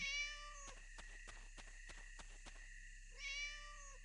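Cats meowing in the Divine Divinity video game, two short meows heard close and clear at the start and end, with a series of sharp clicking taps and steady game ambience in between.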